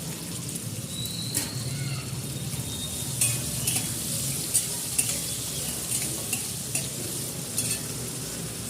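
Tomatoes and onion fry with a little salt in a pan, a steady close sizzle with occasional stirring scrapes and clinks throughout.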